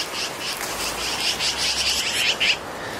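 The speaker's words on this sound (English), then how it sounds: "Those birds are so loud." Birds call loudly and steadily from overgrown brush at an abandoned site in Alaska, their bright repeated chirps layered over a constant background hiss with no talking.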